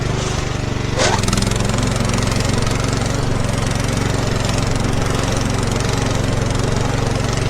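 A small garden tractor engine runs loud and steady while ploughing, with a rough, chugging drone that holds throughout, a brief rising whine near the start.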